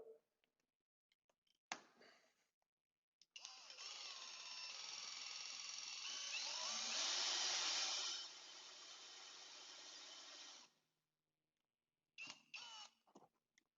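A cordless drill on direct drive powers a rope hoist lifting a load, a steady high motor whine that runs for about seven seconds and rises in pitch midway before stopping, with short clicks and handling noises before and after.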